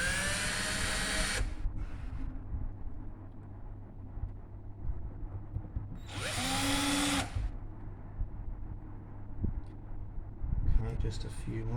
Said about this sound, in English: Okay, so I'll just put all the screws in.